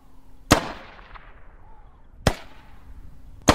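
Three sharp AR15 rifle shots ring out in the video game H1Z1, each a loud crack with a trailing echo, spaced unevenly over a few seconds, with quiet in between.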